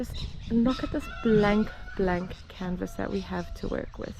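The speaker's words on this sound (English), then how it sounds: "I don't know if you can hear the rooster in the background" A rooster crows in the background while someone talks steadily in the foreground, her voice dominating the scene.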